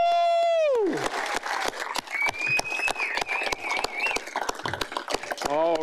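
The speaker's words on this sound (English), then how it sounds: "a unified round of applause" People at a Toronto City Council celebration of the Argos' Grey Cup win break into a round of applause with scattered claps and whoops, after a drawn-out vocal cheer and with voices over it.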